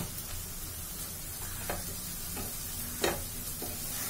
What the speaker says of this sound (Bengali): এই সময় আমি মশলাটাকে সুন্দর করে কষিয়ে নেব